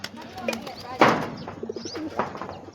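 Pigeons coo softly nearby, with a brief flutter and rustle partway through and a person talking quietly in the background.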